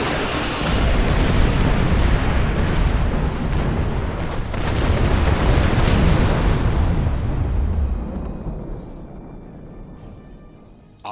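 Starship weapons fire and explosions in the space combat game Star Trek Online: a loud, continuous rumbling barrage of booms and bursts that holds steady for about eight seconds, then fades into a decaying roar.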